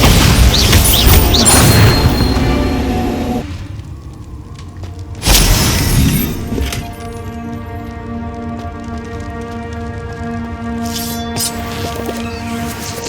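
A Bombarda blasting spell goes off in the Hogwarts Legacy game inside a cave, a loud booming blast that repeats a few seconds later and rings out over a low sustained tone.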